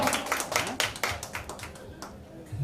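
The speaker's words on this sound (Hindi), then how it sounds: "जोरदार ताली दे रहे" A few people clap at a film production company launch and mahurat event, scattered uneven claps rather than full applause, close and fairly loud with voices talking underneath.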